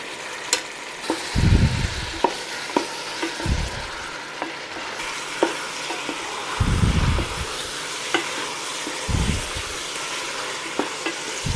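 Meat for a Neapolitan genovese fries with a steady sizzle in a pot, while a utensil scrapes and stirs in several distinct bursts, with light taps against the pot throughout.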